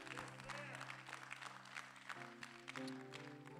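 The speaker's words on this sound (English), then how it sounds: "give the Lord a hand clap of praise" A church congregation claps hands in praise during a Sunday morning service, soft, steady clapping over sustained organ or keyboard chords.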